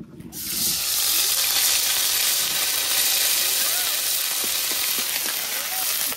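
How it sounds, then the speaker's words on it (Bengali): Onion and ginger paste dropped into hot oil left from frying fish, bursting into a loud, steady, close sizzle that holds evenly throughout after a brief quieter start. "এখন মাছ ভাজার তেলের মধ্যে আমি দিয়ে দেব হলো পেঁয়াজ আর আদাটা বাইটা রাখছিলাম"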